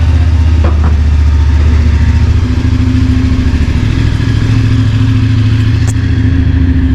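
A CF Moto motorcycle with its stock exhaust runs loud and close, a steady rumbling engine note holding level without clear rises in revs.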